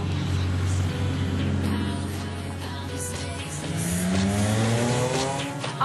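A modified road car lapping a circuit during a qualifying session, its engine droning steadily with rising and falling pitch as it accelerates and shifts, heard continuously from inside or close by with faint tire noise.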